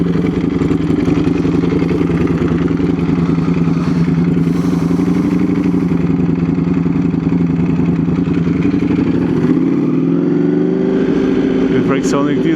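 A 2019 Ducati Panigale V4 motorcycle under way gives off a loud, continuous engine drone with heavy wind rush, easing toward the end, while the rider talks over it.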